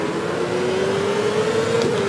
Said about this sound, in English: it's a vintage turbo engine as well